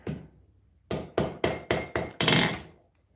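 A hammer forges a letter opener on an anvil at a blacksmith's forge, landing six sharp, ringing blows in a quick, even rhythm after a faint opening tap, close and loud with no talking.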